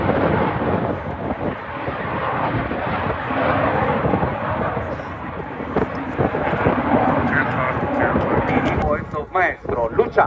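An aerobatic plane roars across an airshow sky, a broad steady engine rumble that swells and fades slightly. A public-address announcer talks over it.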